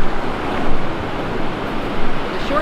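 Ocean surf and wind at Short Beach on the Oregon coast near Tillamook, a steady broadband roar with gentle swells of breaking waves and buffeting wind noise on the microphone, no voices.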